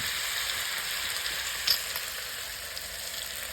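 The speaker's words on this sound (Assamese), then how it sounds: "আদা নহৰুখিনি দিয়ে, আদা নহৰু অলপ ড্ৰাই ফ্ৰাইটো আদা নহৰু দিয়ে।" Ginger and garlic fry in hot oil for a pork curry, a steady close sizzle with a faint stirring knock midway and no voices.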